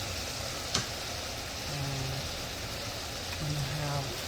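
Onions, mushrooms, carrots and broccoli lightly frying in a pan, a soft steady sizzle with a sharp clink early on and faint voice-like tones drifting through.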